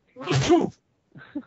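A single loud sneeze from a person close to the microphone, followed after a short pause by someone beginning to speak.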